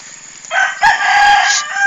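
A native chicken at a backyard coop crows loudly and close by in one drawn-out call, with the pitch shifting partway through.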